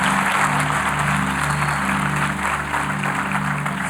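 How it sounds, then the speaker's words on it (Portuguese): Congregation applauding during a church sermon, steady crowd clapping over a low sustained musical drone from keyboard or organ, loud and continuous throughout. "aplaude, aplauda"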